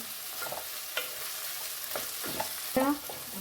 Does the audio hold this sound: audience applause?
no